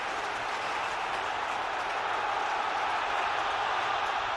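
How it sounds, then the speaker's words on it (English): Chelsea fans at a Premier League football match against Tottenham keep up a broad, steady crowd roar with a hint of applause, dense and continuous, heard from within the stadium. "that's got the crowd going again"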